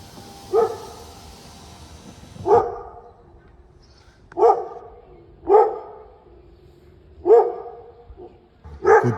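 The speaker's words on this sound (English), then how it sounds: "He's barking at the guy from the CTT, the mailman." A dog barks at the mailman from indoors, six single deep barks spaced a second or two apart over a quiet background, moderately close.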